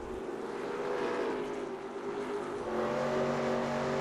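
A race car engine at full throttle in NASCAR Racing 2002 at Watkins Glen howls steadily and loudly, a sustained high-revving drone that shifts pitch slightly partway through, with no voices over it.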